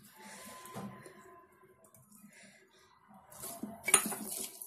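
Breadcrumbs being mixed into a vegetable cutlet mixture in a bowl: soft intermittent clinks and scrapes of a utensil, quiet at first, then a louder burst of bowl and spoon contact near the end.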